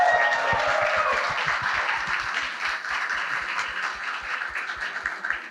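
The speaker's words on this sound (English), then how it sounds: "give them a big round of applause for all the work they did" An audience at a student IoT awards and hackathon event claps for the students, with dense steady applause and a regular thud of rhythmic clapping under it, fading slightly toward the end.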